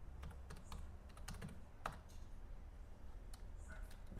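Typing on a computer keyboard in quick bursts of light, close key clicks with short pauses between, quiet overall with no speech.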